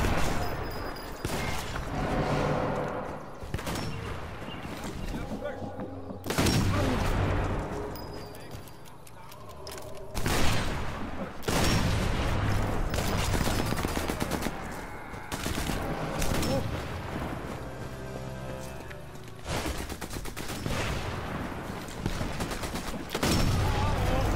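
Gunfire from the World War II sniper game Sniper Elite 4 comes in repeated bursts of shots and sharp cracks at varying distances, loud and dense over ongoing game ambience.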